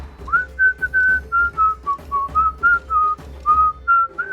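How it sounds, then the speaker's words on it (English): Someone whistles a wandering tune in short, separate phrases, clear and close, with quiet background hum between notes. "And you can hear him whistling."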